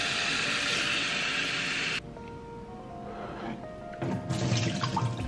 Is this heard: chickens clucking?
no